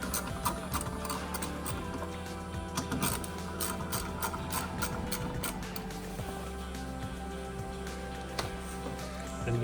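A ratchet wrench with a 14 millimeter socket works the nuts on a car's passenger-side wiper arm, giving a steady run of close, dry ratcheting clicks under a faint background hum.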